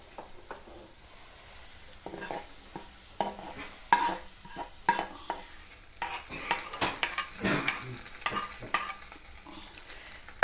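Tempering for peanut chutney fries in a pan, a soft sizzle under irregular scrapes and clinks of stirring that grow busier and louder in the second half, close by with no speech.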